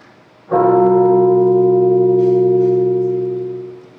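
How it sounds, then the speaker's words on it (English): A single deep bell strikes once, loud and close, its ringing tone sustaining and slowly fading over several seconds. "The bell invites me."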